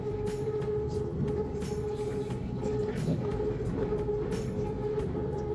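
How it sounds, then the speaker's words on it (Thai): Riding an elevated BTS Skytrain Silom Line car near Chong Nonsi station in Bangkok, with a steady close rumble of the train, a continuous motor whine and faint periodic clicks and squeals, no talk. "บรรยากาศของการนั่งรถอันนี้เป็นรถไฟฟ้าสายสีสายสีลม"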